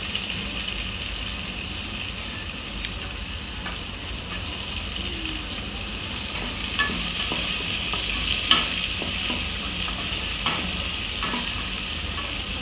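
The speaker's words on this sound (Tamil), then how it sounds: "இப்போ வெங்காயத்தை போட்டு நல்லா வதக்கிடுவோம்ப்பா." Onions sauté in a pan for vegetable biryani, with a continuous loud sizzle and repeated scraping, clattering stirs that grow busier toward the end.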